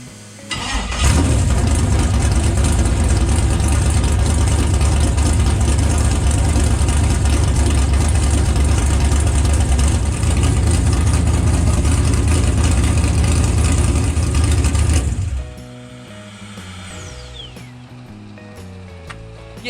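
A freshly started LS V8 fitted with a BTR Stage 5 naturally aspirated cam, with a small fuel leak, settles into a loud, steady, lumpy idle close by for about fifteen seconds before cutting off to quieter background noise.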